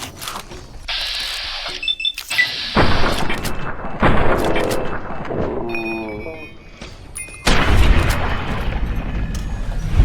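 Gunshots crack out in bursts in Fallout: New Vegas, sharp repeated shots and booms mixed with game sound effects and music, with a voice talking over parts of it.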